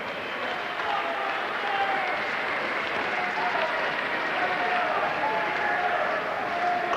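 A boxing arena crowd keeps up steady, loud applause mixed with a broad roar after a bout ends in a draw, with a voice faintly over it.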